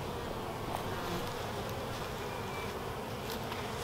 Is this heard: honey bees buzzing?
yes